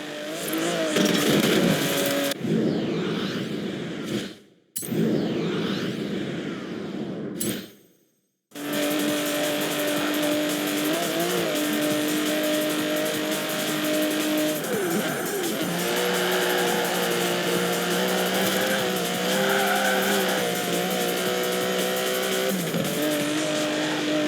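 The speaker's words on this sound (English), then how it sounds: "The DB11 is not the fastest car in the world, but then it's not trying to be." Aston Martin DB11 driving hard, engine note rising and falling through gears with brief pauses, then a sustained revving run with tire squeal, loud and close, no voices.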